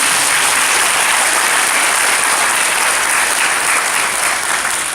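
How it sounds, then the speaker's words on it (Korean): A church congregation applauds at a 2018 year-end worship service. The clapping is loud, dense and steady, and fills the whole stretch without letting up. "한번 박수 한번 드릴까요?"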